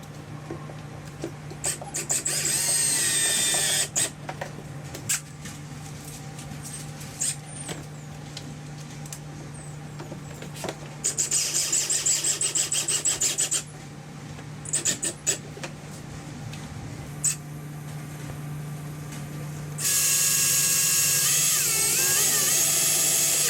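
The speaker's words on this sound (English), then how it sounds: "at the top, you're gonna use this provided screws, and it's gonna go right into these little tabs on the lid" Screws driven with a power driver into the lid tabs of a LinQ 51L cooler extension on a Sea-Doo, heard as repeated whirring and grinding runs of several seconds each, close up and steady, with no talking.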